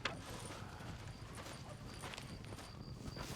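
Soft, steady clip-clop of horse hooves at a walking pace in the video game Red Dead Redemption, fairly faint beneath a background hum.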